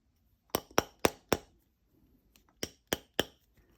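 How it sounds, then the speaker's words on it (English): Metal hammer tapping on a ring in jewellery making: four crisp, bright clinks in quick succession, a brief pause, then three more evenly spaced taps, close and alone in a quiet room. "then you can use your hammer"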